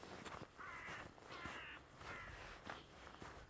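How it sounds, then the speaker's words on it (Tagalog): Several harsh crow caws in a row, fairly close, with faint crunching footsteps on snow underneath, outdoors at minus 4 degrees in Kirkenes, Norway. "Huni ng pispis. Ibon, maibon."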